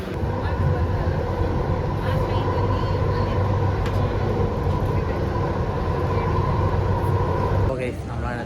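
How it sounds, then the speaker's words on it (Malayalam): A Bangalore metro train pulls into a busy station with a loud, steady rolling rumble that continues throughout, ending with a brief rising brake squeal. "ഇതാണ് മെട്രോ."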